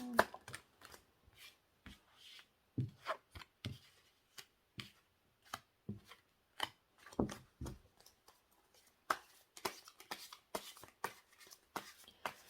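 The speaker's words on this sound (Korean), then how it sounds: "무슨 생각을 할지 또 카드를 뽑아볼게요" Tarot cards are shuffled and drawn in a quiet room, with soft riffles, sharp slaps and taps of cards coming in scattered clusters, close and fairly faint, with no speech.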